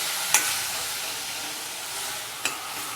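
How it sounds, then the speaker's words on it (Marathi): Spice masala fries in a pan with a steady sizzling sound and two brief scraping stirs, close and continuous throughout, no voices. "पुन्हा एकदा मसाला परतून घेऊया म्हणजे मसाले खाली लागणार नाहीत"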